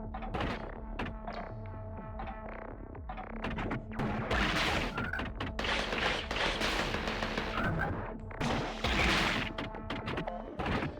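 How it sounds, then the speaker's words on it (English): Missiles fire in rapid bursts in the video game Gato Roboto, with repeated loud crashing, thudding blasts over a dense layer of game music and effects that swells and peaks through the middle and again near the end. "Man, these missiles are fucking effective."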